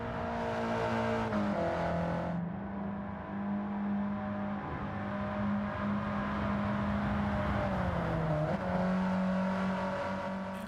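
A stock car in the Gran Turismo 7 racing game drones with a steady, muted engine hum, rising slightly in pitch as it accelerates twice, with no talking over it.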